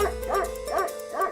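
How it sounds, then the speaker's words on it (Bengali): A dog barks in a few short, regular yaps at moderate distance, with a faint steady hum underneath. "ওই বদমাশ কুকুরটা সেই তখন থেকে ডেকেই চলেছে"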